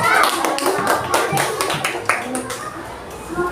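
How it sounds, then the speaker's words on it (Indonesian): A class claps for a student group presentation, giving a short burst of many hands close by that thins out quickly, with children's voices nearby. "Berikan tepuk tangan dulu."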